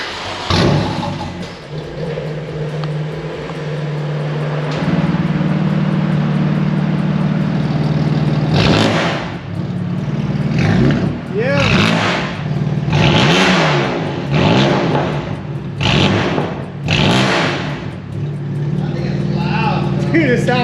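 A track-build car fitted with an Akrapovic exhaust starts and settles into a low idle, then gives a string of sharp, loud revs with a rising and falling engine note, while people talk near the car.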